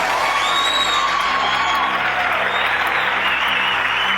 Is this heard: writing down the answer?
no